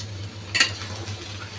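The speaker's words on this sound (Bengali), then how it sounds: "এবার আমি এটা আবারও ভালোভাবে কষিয়ে নেব মশলার মধ্যে।" Thinly sliced potato and brinjal are stirred and sautéed in a mustard and green chilli spice paste with dried prawn, one short scrape of the spoon over a low sizzle and steady hum.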